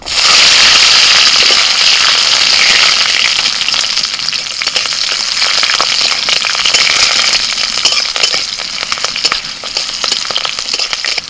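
Loud, dense crackling and sizzling as nigella seeds, dried red chillies and garlic cloves hit hot oil, spitting continuously and easing slightly after the first few seconds.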